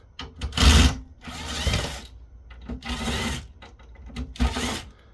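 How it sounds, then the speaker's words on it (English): A powered driver removes screws from a Telecast Fiber Systems Diamondback 8-channel video and auxiliary audio receiver, whirring in several close bursts with short pauses between them. "There's some screws in the back here as well that we can remove."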